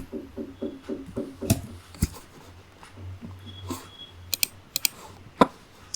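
Python code is typed on a computer keyboard in irregular bursts of close, crisp key clicks, with a few sharper isolated taps and quiet pauses between runs.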